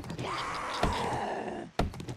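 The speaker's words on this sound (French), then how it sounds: "Ouais, c'est le bruit de plusieurs zombies" Several zombies groan in the 7 Days to Die video game, a continuous low droning moan in the background with a couple of dull thumps cutting through.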